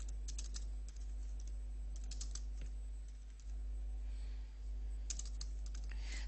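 Typing on a computer keyboard while entering a drawing name in Revit 2012: quick bursts of close, crisp key clicks separated by short pauses, over a steady low electrical hum with no voices.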